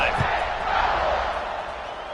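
The stadium crowd in an American football video game gives off a broad, steady roar that fills the space and fades slightly as it goes, with a brief low thud near the start.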